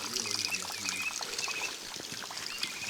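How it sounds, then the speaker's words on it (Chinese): A waterfall in the Guizhou mountains splashes and trickles steadily nearby while birds chirp repeatedly in the background. "你們看，這個瀑布非常的漂亮，它的瀑布從這裡就漏下去了。"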